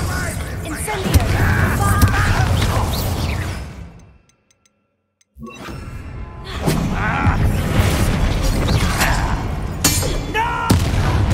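The Incendio fire spell in Hogwarts Legacy erupts in loud, dense blasts and crackling combat effects, broken by a sudden near-silent gap before the fiery barrage resumes with voices in the game.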